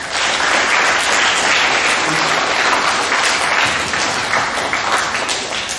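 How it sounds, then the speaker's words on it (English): Sustained applause fills a school hall at a middle school awards assembly as track athletes are recognized, an even wash of clapping from a sizable crowd throughout. "So give those kids a round of applause."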